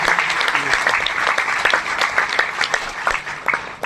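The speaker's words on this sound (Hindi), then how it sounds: "एक जोरदार तालियां" Dense, steady applause from a seminar audience fills the room, loud and continuous throughout with many hands clapping at once.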